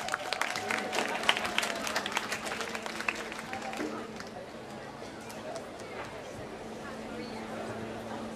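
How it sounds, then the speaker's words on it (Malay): Audience clapping for performers at a Mek Mulung traditional theatre show in Kedah, Malaysia, a scattered crowd applause that starts lively then thins and fades under background chatter and murmuring voices. "Kita bagi tepukan untuk mereka."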